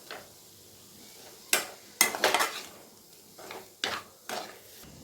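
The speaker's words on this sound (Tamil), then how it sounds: "இப்போது இந்த ஸ்டேஜில் சிக்கனை சேர்த்துடலாம்." Chicken going into masala in a pan over a medium flame, then stirred: sharp scraping and clattering strokes of a spoon against the pan in irregular bursts over a quiet sizzle, close and fairly loud, with no talk.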